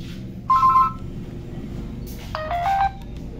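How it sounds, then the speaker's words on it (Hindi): A ringtone preview on a budget X SL 100 Lite mobile phone: short electronic melodic tones in two brief bursts over a steady background hum. "तो ये इसके अंदर रिंग टोन्स हैं"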